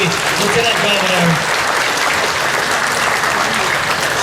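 A festival crowd outdoors applauding the Lieutenant Governor, dense continuous clapping, loud and sustained, with voices faintly under it.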